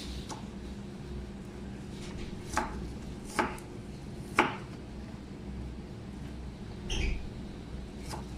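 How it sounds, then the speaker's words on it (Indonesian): Onion chopped on a board for a student-style nasi gila, a few distinct knife knocks spaced out over a low room hum, no talking. "Kita potong ini kecil aja"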